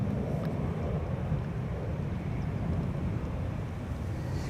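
An airliner going around at Amsterdam Schiphol runway 06 gives off a steady distant roar of jet engines, a broad low rumble that holds evenly throughout and is heard with no talk over it.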